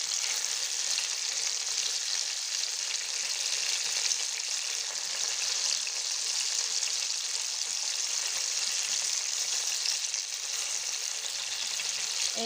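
Chicken shashlik fries in a pan with a steady, dense sizzle that holds at an even level throughout, with no voices.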